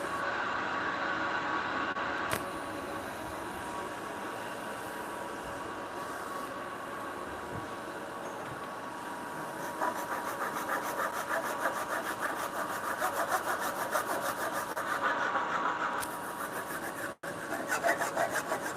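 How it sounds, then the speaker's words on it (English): A chisel worked into wood on a bunk bed rail in a hot workshop, giving a continuous rough scraping and rasping that holds steady for the whole stretch, fairly close, with no voices over it. "I'll start whacking it with a chisel."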